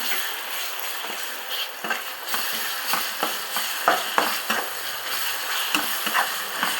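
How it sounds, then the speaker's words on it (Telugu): Ginger garlic paste fries in a pan with a loud, continuous sizzle, broken by frequent scraping and clattering strokes as it is stirred, close up and with no talking. "పచ్చి వాసన పోయే వరకు వేగనివ్వాలి"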